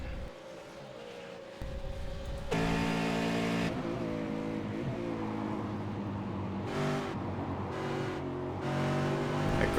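V8 Supercars lapping the Brands Hatch circuit during a race, engines snarling past at a distance with rising and falling revs, cars overlapping in a fairly quiet, continuous roar.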